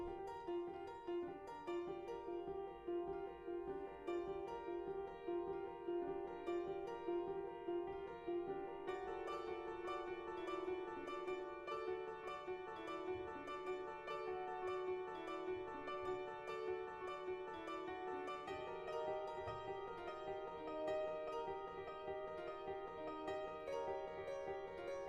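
Quiet music plays the same chords layered in triplets against quarter-note quintuplets, forming a steady, repeating polyrhythmic pattern of soft, sustained tones with no talking.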